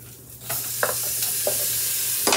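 Garlic hitting a hot pan coated in browned beef drippings for beef stew, bursting into a loud close sizzle with several spoon scrapes and stirring knocks over a constant fry.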